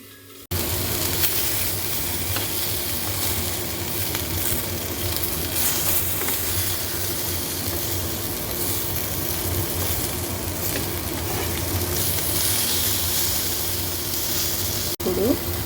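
Mushrooms frying in cold-pressed oil in a pan, a steady close sizzle that holds at an even level from start to finish.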